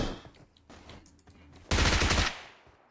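Automatic gunfire in the mobile battle royale game PUBG Mobile bursts out loud and close as a rapid volley of about half a second, after quieter distant shots and in-game ambience.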